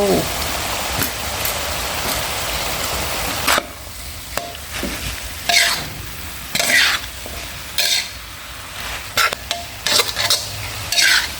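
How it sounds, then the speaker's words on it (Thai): Pickled bamboo shoots and minced pork stir-fried in a pan, a steady loud sizzle broken by repeated scraping stir strokes and clanks of the utensil against the pan, close up. "ผัดหน่อไม้ดองใส่หมูสับนะคะ"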